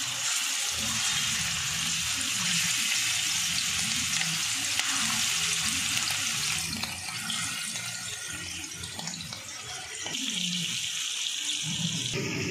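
Marinated prawns fry in oil in a pan, giving a steady, close sizzle with stirring and a few faint scrapes, the hiss dipping briefly midway before rising again.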